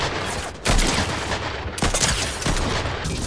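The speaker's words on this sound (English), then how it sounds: "thing is just shooting automatically" Automatic weapon fire in Fortnite, loud rapid bursts of shots with sharp onsets and brief gaps between volleys, up close and without talk.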